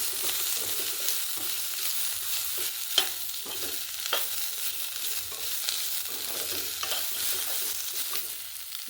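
Boiled potatoes and cauliflower stalks frying with chilli powder and cumin in a village kitchen: a dense, bright, continuous sizzle with a few faint clinks and stirring knocks, close and steady, no voices.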